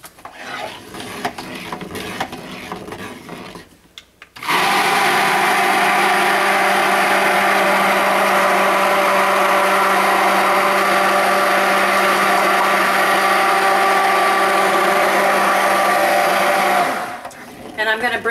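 A stick blender mixes soap batter of aquafaba, coconut milk and oils toward thick trace, a loud steady motor whine running for about twelve seconds after brief speech, then cutting off.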